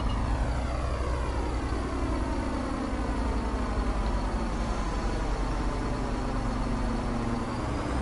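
Class 170 diesel train in Train Sim World 5 pulling away, a steady loud engine drone with rising tonal whine, continuous and close, no talking.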